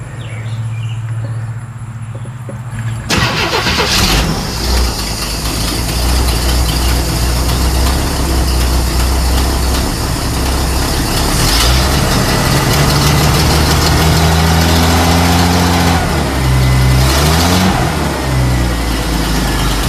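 An old vehicle engine turning over and catching after a few seconds, then running loud and rough at idle with a couple of brief revs, close to the microphone with no talking.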